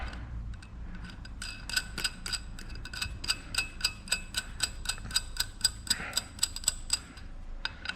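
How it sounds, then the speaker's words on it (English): A locking nut on a Volvo is tightened with a ratchet, a close run of about twenty crisp, evenly spaced clicks speeding up in the middle, with quieter handling noises around them. "Put the locking nut back on."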